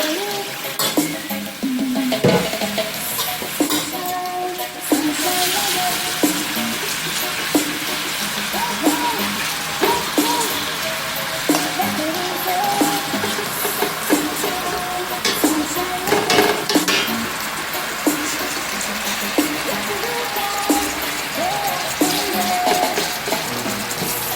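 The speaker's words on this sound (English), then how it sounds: "I am going to put in the beef strips now" Beef strips seasoned with curry powder and black pepper sizzle steadily in a hot pan, with continuous frying hiss and repeated stirring scrapes and utensil clinks throughout.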